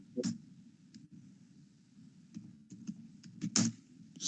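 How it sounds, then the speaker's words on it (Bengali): Scattered keystrokes on a computer keyboard, a few light clicks then a quicker burst of typing near the end over a low steady hum. "আমি আপনাদেরকে ডিজিটাল মার্কেটিং সার্ভিসটা লিখি একটু"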